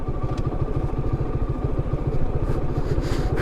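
Motorbike ridden over a rough, bumpy road, its engine thudding in a fast steady pulse with rattling clatter, loud and close throughout.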